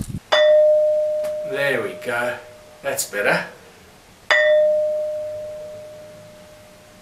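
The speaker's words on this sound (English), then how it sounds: "this thing really rings like a bell and it reverberates for quite a long time" A stone in a Middle East dolmen field is struck twice and rings like a bell, each clear metallic tone sustaining and decaying slowly; someone speaks briefly between the strikes.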